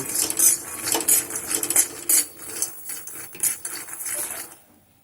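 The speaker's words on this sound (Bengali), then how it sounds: "কড়াইয়ের মধ্যে আমি কিছুটা চিনে বাদাম দিয়ে দিচ্ছি" Peanuts dry-roasted without oil over a low flame in a kadai-style wok rattle and clatter in continuous bursts as they are stirred, loud and close, before tapering off into near silence at the end.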